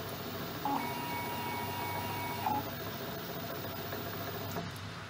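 A Myford Super 7 lathe with a solid tool post and electronic leadscrew makes a test cut at 643 RPM and four hundredths of a millimetre per revolution. It gives a steady mechanical whine and hum with a couple of brief louder bumps.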